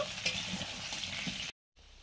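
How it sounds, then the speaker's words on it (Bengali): Steady, dense sizzling of food frying in a pan with a few soft stirring clicks, continuous and close, then a brief drop to silence before the sizzle resumes. "আলুটা ভেজে নিচ্ছি"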